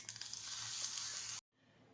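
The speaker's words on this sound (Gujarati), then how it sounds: "જે આપણે વઘાર તૈયાર કર્યો છે તેને આ બેટરમાં નાખીશું" Spice tempering poured into a rice-flour batter for a quick breakfast snack, giving a loud, steady sizzling hiss that lasts just over a second and then cuts off abruptly.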